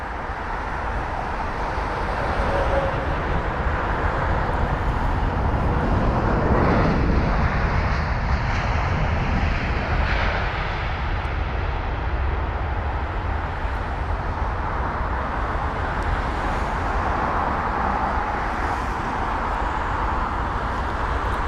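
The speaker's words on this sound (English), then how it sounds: "let's see how smooth this touchdown is going to be" An Airbus A350 landing at London Heathrow, heard as a loud, continuous jet roar that swells slightly midway and then holds steady throughout, with no talking.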